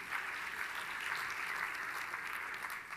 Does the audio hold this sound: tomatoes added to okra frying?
no